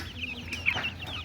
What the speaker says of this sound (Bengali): মুরগিগুলো হাতের থেকে খাইতেছে।